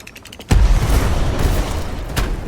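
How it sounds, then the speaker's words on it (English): A torpedo hit explosion in the Black Skylands video game: a sudden deep boom with a rumbling tail, followed by a smaller second impact, loud and close with no voices. "one of the torpedoes was at least able to hit"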